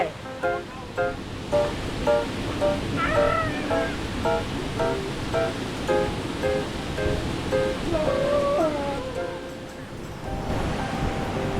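Continuous roar of Khlong Ta Long waterfall in Chanthaburi, Thailand fills the background, while children's and adults' voices chatter and call out over it throughout.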